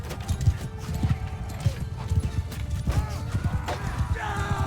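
Horse hooves clip-clop rapidly and steadily in the medieval battle game Mount & Blade II: Bannerlord, close and loud, with an occasional whinny and faint clanking in the background.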